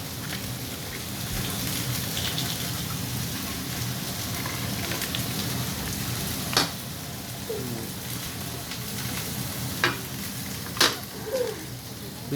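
Butter sizzles and crackles in a hot pan alongside a halal T-bone steak, a steady dense hiss with scattered sharp pops, close and continuous.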